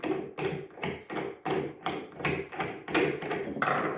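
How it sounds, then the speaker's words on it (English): Alter Ego double bass end pin rod being removed, a quick series of sharp, close taps and knocks in an irregular rhythm, loud and alone without talk. "So you take the end pin rod out."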